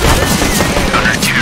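Dense, loud gunfire from a CS:GO 1v1 tournament match clatters continuously, with a caster talking over it.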